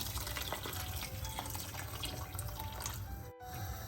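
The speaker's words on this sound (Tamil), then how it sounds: "இந்த அவிகிறது களவான தண்ணியை இப்போ நாங்கள் சேர்ப்போம்" Water pouring steadily into a pot of Tamil-style chicken curry, with splashing and dripping, close and continuous, briefly cutting out near the end.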